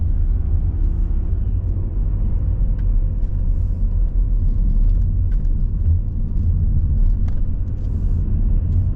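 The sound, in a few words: 2015 Volvo V70 D4 diesel car driving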